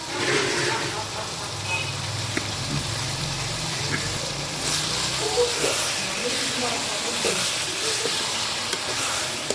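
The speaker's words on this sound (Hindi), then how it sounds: "मसाला हमारा अच्छी तरह फ्राई हो रहा है" A spice mix for stuffed karela sizzles and hisses in a hot pan on the stove, with a steady frying crackle that runs the whole time.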